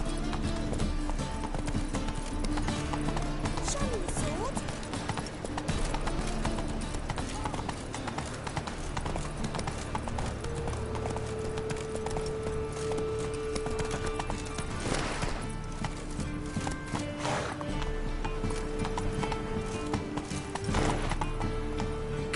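Roach the horse gallops in The Witcher 3, hooves clip-clopping steadily throughout with occasional neighs, under game ambience and a man's spoken lines.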